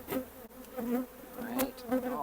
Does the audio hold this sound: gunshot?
no